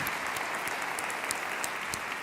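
An audience claps steadily at the close of a talk, a dense, even patter of applause sustained throughout without voices over it.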